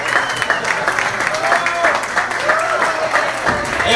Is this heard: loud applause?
yes